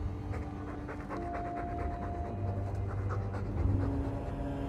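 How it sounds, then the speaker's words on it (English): Steady, rhythmic dog panting from the video game Dragon Age 2, close and continuous throughout, with quick breathy pulses over a low ambient game background. "All that noisy dog breath, day in, day out."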